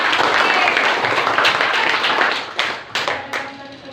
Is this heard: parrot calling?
no